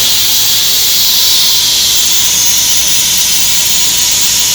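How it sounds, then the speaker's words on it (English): Steam sprays from an Instant Pot's pressure release valve while cooking stuffed grape leaves, a loud, steady hiss that holds unbroken for several seconds before cutting off abruptly. "There's a little knob over here that you can just click like that and it sprays up."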